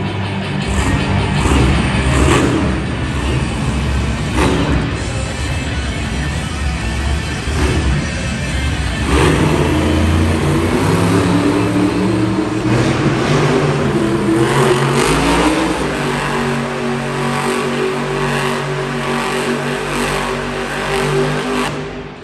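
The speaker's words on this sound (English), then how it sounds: "Coming up next, he's bringing the heat. It's Cody Saucier driving Dragon" The monster truck Dragon roars through a Monster Jam arena show in Hartford, CT, its engine loud and continuous, revving and surging at high speed over the noise of the crowd.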